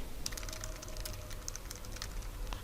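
Fingers tap a computer keyboard in quick, uneven bursts of light clicks while someone fills in a résumé in Microsoft Word, close and fairly quiet, with no voices.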